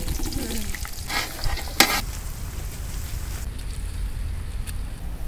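Large onions tossed into hot oil with cinnamon, cloves and cardamom give a steady close sizzle, with a sharp clatter of stirring about midway before the frying hiss settles into a constant crackle.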